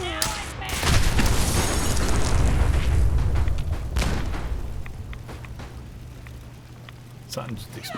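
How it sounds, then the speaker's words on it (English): An explosion in the video game Fallout 4, set off by a missile launcher, comes as a loud, close boom at the start, then a long rumbling roar that slowly fades, with faint speech nearby. "Something just exploded."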